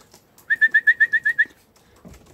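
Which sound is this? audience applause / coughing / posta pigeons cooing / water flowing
posta pigeons cooing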